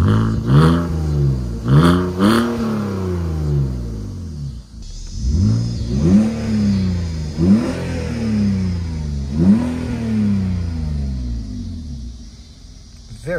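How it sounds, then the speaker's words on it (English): A BMW E46 inline-six engine revs repeatedly, rising and falling in several strong pulls with a raspy exhaust note, close and loud. "Very smooth inline six motor, producing a very raspy, beautiful exhaust note."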